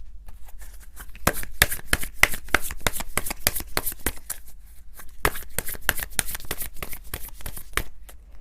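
Tarot cards are shuffled in quick, crisp riffling bursts, a dense run of sharp papery slaps repeating steadily up close with no voices.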